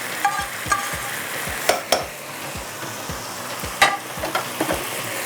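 Biryani rice with onions and oil stirred in a pot for plane kabab biryani: a steady run of scraping spoon strokes, about one every half second, over a soft oily sizzle, close and clear with no talking.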